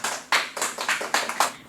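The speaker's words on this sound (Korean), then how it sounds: "일단 박수 한번 치고 시작하자" A small group of people claps hands together in a short burst of about six uneven, sharp claps, close and clear with no talk.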